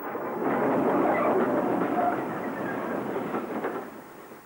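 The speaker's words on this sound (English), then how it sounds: "Cardiff Canton-based Grange class number 6833 Calcott Grange arrives on a" Grange class steam locomotive 6833 Calcott Grange, based at Cardiff Canton, rolls in on a stopping train, a broad rumbling roar with faint squeals that swells, holds, then fades away.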